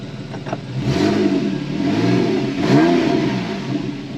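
A Porsche 911 Carrera (997.2) 3.6-litre direct-injection flat-six engine revs up twice in quick succession, rising and falling with a smooth, raspy mechanical tone, close by.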